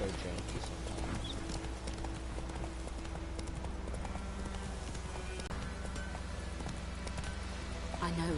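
A horse's hooves galloping in the video game The Witcher 3, a steady rapid clip-clop over continuous game music and ambience, with someone talking over it.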